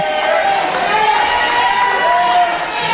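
A wrestling crowd in Texas cheers and shouts steadily behind a ringside commentator's voice, the roar filling the hall at a fairly even level.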